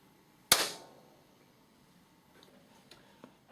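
One hand clap cracks out in an ordinary reverberant room, loud and sharp, then rings off in a short echoing tail before faint room noise returns.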